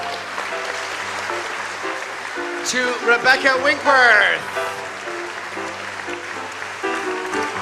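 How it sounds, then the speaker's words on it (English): Audience applause greets performers at a 2018 classical Christmas concert, a short burst of clapping swelling mid-clip while a presenter announces names over a steady background. "please give them all an individual round of applause as we welcome them back"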